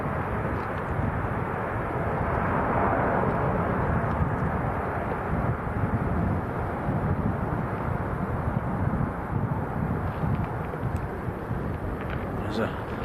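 An airliner landing at Lanzarote Airport in a strong crosswind gives a steady, loud broadband roar that holds for the whole stretch, with wind buffeting mixed in.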